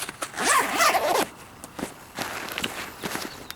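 A zipper on a bag pocket of a camping stove kit is pulled open in one long rasping stretch, followed by a few short clicks and rustles of handling, close to the microphone.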